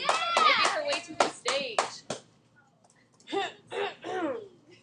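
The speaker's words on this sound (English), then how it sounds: "everybody give Crystal a round of applause" Scattered claps from a classroom of students applauding a classmate in an algebra class, mixed with cheering voices and a teacher talking over it, then more talk after the clapping fades.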